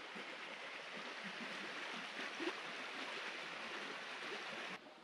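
Pinkerton Creek in the Porcupine Mountains flows with a steady, full rushing hiss, close and continuous with no voices, ending abruptly.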